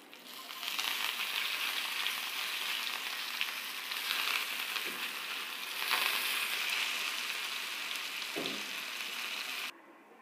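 Eggplant with coriander fries in a covered pan on low heat, giving a quiet, even sizzle with faint crackles and a couple of soft knocks. It stops abruptly near the end.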